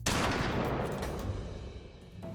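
A Scorpion submachine gun fires a rapid burst, a dense clatter of shots with loud reports that fade into a decaying echo over about two seconds.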